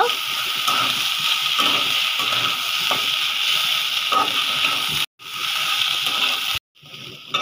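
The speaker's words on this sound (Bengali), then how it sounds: "চালটাকে একটু ভাজবো আমি" Rice and onion fry in a pot with a dense, steady sizzling hiss close by, broken by two brief cuts, and occasional stirring scrapes underneath.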